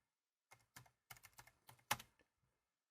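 Keys on a computer keyboard clack in a short, uneven burst of about nine taps, quiet and close, with one sharper keystroke near the end.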